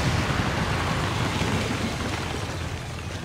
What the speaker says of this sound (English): Status confirmed. X4 charges detonated.